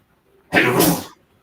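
A single loud, close sneeze bursts out sharply and ends quickly, with near silence before and after.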